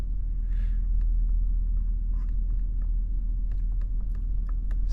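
A 2022 Ford F150 truck engine idles steadily, a low continuous rumble with faint scattered clicks on top, no voices.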